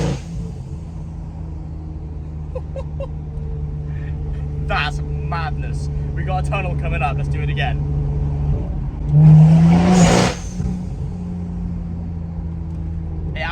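A tuned BMW M240i with an MHD tune idles with a low steady drone, then revs hard as it builds boost in a short loud burst near the end, while someone speaks over it.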